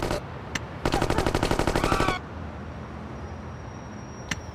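Rapid automatic gunfire in the video game Gangsters 2: Vendetta, a loud burst of about a second and a half with single shots before and after, over steady street ambience.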